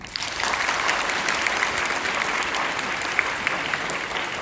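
Audience applause after a university lecture at Incheon National University fills the room, steady clapping from many hands, moderately loud and sustained without talk.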